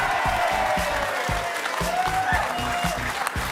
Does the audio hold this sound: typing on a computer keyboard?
no